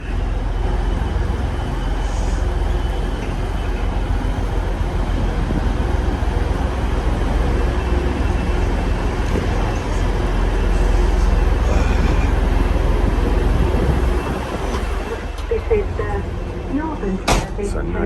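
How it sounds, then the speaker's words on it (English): A Class 158 diesel train rumbles steadily while moving, a low continuous engine drone with rail noise and faint voices in the background. "It's a nice seated 158. Right, on the move again."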